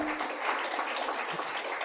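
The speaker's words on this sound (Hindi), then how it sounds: "सबको तालियां बजाएंगे आदि शंकराचार्य के" An audience clapping in honour of Adi Shankaracharya at a spiritual gathering: steady, fairly faint applause from many hands, continuous and even throughout with no voices on top.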